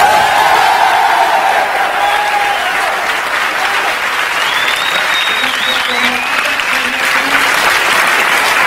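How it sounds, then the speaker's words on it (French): Loud studio audience applause at a French television show taping, continuous dense clapping with cheers and whoops rising over it and voices calling out in the mix. "Attention, alors attention, top applaudissements."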